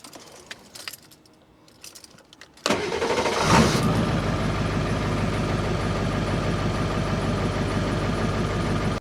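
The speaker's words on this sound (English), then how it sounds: "now I'm going to start the engine." A car engine cranks after a few quiet seconds of faint rattling, catches with a brief rising roar, then settles into a steady, even idle that runs to the end.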